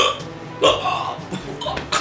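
A person voices one big, abrupt hiccup-like gulp, imitating a hiccup, with other loud, close vocal sounds around it.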